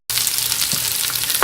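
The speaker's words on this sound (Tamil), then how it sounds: "இங்கே கடுகு பொரியுது." Mustard seeds spluttering in hot oil for tomato idiyappam: a dense, steady crackling sizzle close by, filling the whole moment with no talk.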